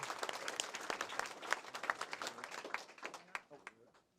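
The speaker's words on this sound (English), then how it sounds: "if you would join me in a round of applause for everyone who helped make this project a" Audience applause fills a public library branch's grand opening ceremony, a steady wash of many clapping hands at moderate distance that holds for several seconds before thinning out near the end, with voices mixed in.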